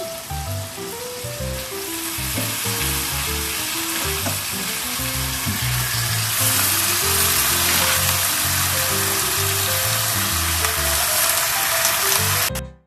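Spinach fries in a pan with seven or eight shrimp, giving a loud, continuous close-up sizzle and hiss for several seconds, with a gentle melodic backing underneath, then cuts off abruptly.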